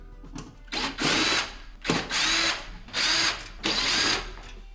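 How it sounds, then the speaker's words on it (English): A power drill runs in four bursts of about a second each, removing four Phillips screws from the sub panel of a KitchenAid microwave. The drill is loud and close, with short pauses between bursts. "it looks like there are 4 Phillips style screws"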